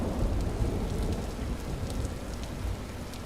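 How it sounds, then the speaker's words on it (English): Steady rain patters inside the Vintage Story video game, a dense continuous wash with low rumbling undertones, as if heard from a sheltered interior, with no voices over it. "let's sit in the cozy inside and listen to the rain pitter patter here"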